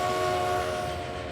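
Train in the railway simulation game Transport Fever, a steady tonal hum or horn-like drone with a rumbling low undertone, continuous and fairly loud throughout.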